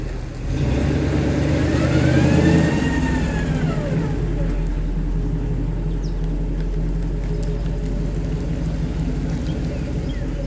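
A Chevrolet K1500 pickup with a fault drives forward, its engine rumbling steadily at close range while a rising and falling whine or squeal sweeps through early on over the constant low drone.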